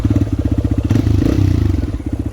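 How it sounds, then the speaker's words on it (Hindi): A Raider 125cc motorcycle from 2025 at a steady idle, its exhaust throbbing in a rapid, even low pulse with a slight lift in revs midway, close and loud. "ये जो एग्जॉस्ट है ये बहुत ज़्यादा ही बढ़िया लगता है, और मतलब सुनने में मैं आपको ये सुनवा सकता हूँ"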